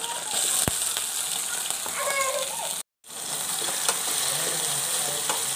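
Tomatoes drop into a pan of onions and ginger paste frying in oil, giving a steady close sizzle and some stirring, with one brief cut to silence partway through.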